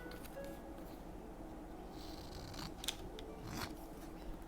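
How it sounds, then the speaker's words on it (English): Scissors snipping through craft paper to cut a small rectangular chimney shape, a few quiet close crisp cuts over a faint room hum. "I'm going to cut a chimney."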